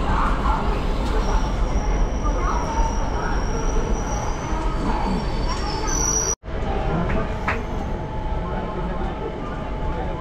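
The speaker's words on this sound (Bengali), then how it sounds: "ভুবনেশ্বর থেকে ছেড়ে দিল আমাদের ট্রেন।" A passenger train runs along the route from Bhubaneswar toward Puri, with loud, steady rumbling of wheels and carriages, a whining tone and brief squeal, and a momentary dropout midway, heard from inside with passengers talking under the noise.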